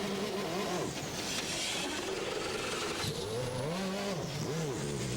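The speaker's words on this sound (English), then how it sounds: "Chris Dyson struggling to get away." Race car pulling away from the pit lane after a single tyre change at Road America during a 2006 American Le Mans Series race, a gearbox-troubled prototype whose engine revs rise and fall in several surges over a constant crowd and track roar.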